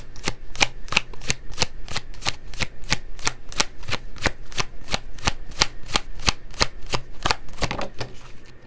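Tarot cards being shuffled in a rapid, steady series of about two dozen crisp riffling snaps, close and fairly loud, with no talking over them.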